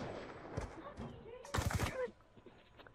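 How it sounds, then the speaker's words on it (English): Bursts of gunfire from the Black Ops 2 video game rattle through in short rapid volleys, fairly faint, with a voice talking over the shots. "Why aren't you dying? I'm shooting at you."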